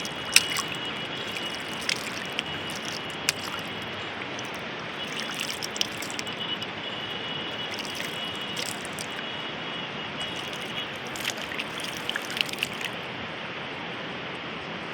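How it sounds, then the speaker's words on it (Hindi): River water trickles and gurgles steadily at a river inlet near an old palace in Madhya Pradesh, a soft continuous flow with faint splashes and drips close by, no talking. "ये नदी के आने का रास्ता है, इसमें आ सकते हैं नदी के अंदर।"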